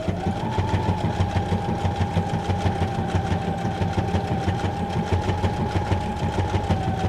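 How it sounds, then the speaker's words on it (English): A sewing machine stitches on paper at a fast, even rhythm, a continuous mechanical whir with a steady hum, close by and no talking. "pull out your sewing machine, because sewing on paper is fun"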